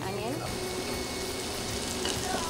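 Serrano ham ends sizzling in a pan, a steady close hiss of frying fat running unbroken throughout.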